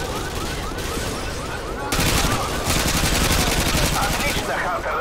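Loud, sustained automatic gunfire in the video game Call of Duty 3 rattles without pause, growing denser and more intense partway through, with overlapping bursts.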